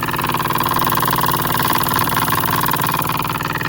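A restored Mamod SE1 toy steam engine runs on steam with a fast, steady chuffing rhythm, loud and close and continuous, with no talking.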